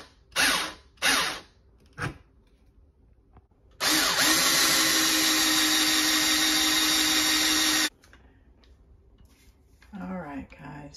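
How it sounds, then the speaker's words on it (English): Power drill boring slowly into pantry shelf wood during a kitchen shelf install, a few short bursts first, then a steady loud whine for about four seconds, with brief speech before and after. "So now what I'm going to do is I got my drill bit. I go very slow because I don't want to crack the wood"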